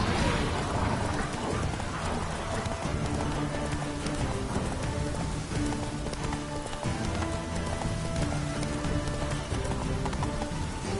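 Roach, the horse in The Witcher 3: Wild Hunt, gallops with steady rhythmic hoofbeats under a full, busy game soundscape. The running continues for the whole stretch without voices.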